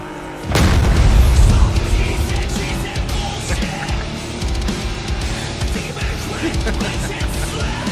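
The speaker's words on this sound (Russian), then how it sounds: "как Сит-4 взорвется, старт" C4 charge detonating in the video game PUBG, a single loud deep boom at the start that rolls into a long rumbling tail with scattered background noise.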